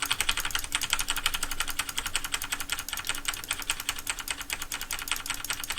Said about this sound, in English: what I'm doing is I'm pressing I and O at the same time, so I'm technically winding and releasing these guys at the same time